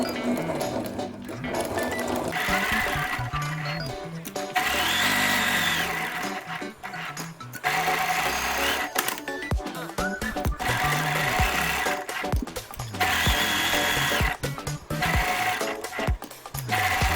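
A sewing machine stitches a fabric seam with a 1 cm seam allowance, running loud and close in several steady bursts separated by short pauses, with no talking.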